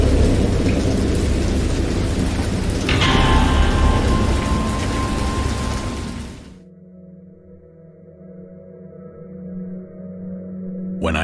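A thunderstorm with heavy rain and rolling thunder: loud, dense downpour with a crack of thunder, then the rain drops away to a quieter, lower rumble before another burst at the end.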